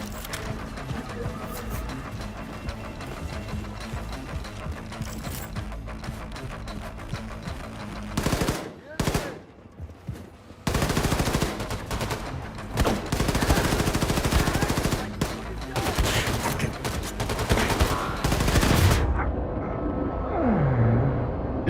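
Rapid automatic gunfire in a heavy-weapon shooter game, with loud dense bursts broken by brief gaps, then a quieter stretch near the end.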